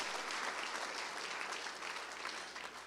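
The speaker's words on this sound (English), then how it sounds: "Please give them a round of applause." Audience applause at a Springfield 1 Million Cups startup event, a steady, dense wash of clapping holding evenly throughout and tapering slightly at the end, with no voices on top.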